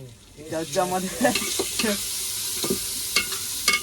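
Ginger garlic paste fries in a hot pan as a spatula stirs it, giving a close, steady sizzle broken by scraping strokes, with a faint voice under it.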